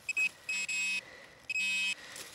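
A handheld metal detector signalling a target while searching a forest, giving several bright electronic beeps in an uneven on-off pattern, each tone lasting up to half a second, heard close and clear with no talking.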